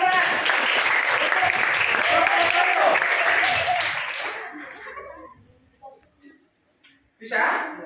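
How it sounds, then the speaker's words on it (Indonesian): Audience applause in a classroom or workshop setting, a dense burst of clapping from many hands lasting about four seconds, then fading out, followed by a short exchange of speech. "Yuk, tepuk tangan."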